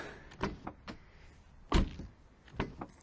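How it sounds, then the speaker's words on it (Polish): Several soft thumps and clicks of a 2002 Porsche 911 Carrera (996.2) car door, with one sharper, louder shut near the middle and a couple of lighter latch sounds after. "Dźwięk jest identyczny, no bo drzwi są przecież identyczne"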